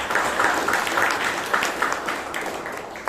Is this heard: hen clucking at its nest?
no